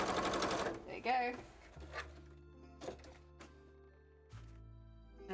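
A home sewing machine stitches a costume tail in short bursts of rapid mechanical whirring and clatter, with pauses and thunks between runs, heard up close.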